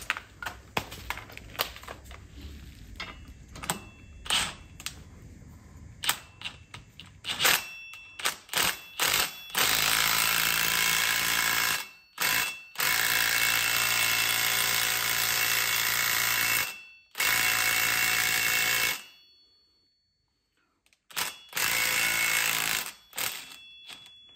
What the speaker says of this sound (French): Je vais essayer avec la vis à choc pour voir si ça sort.